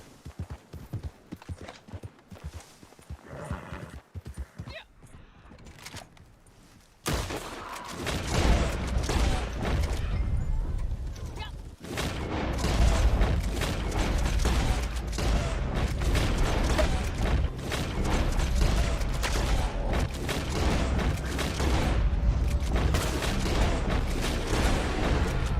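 Red Dead Online gameplay: bursts of gunfire pop over a horse's steady clip-clop, then a dense, continuous rumble of shots and hoofbeats with no talking.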